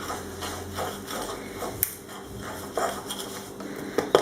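A utensil scrapes and knocks against a bowl while stirring batter for fried calamari, with occasional sharp clinks over a steady background hum.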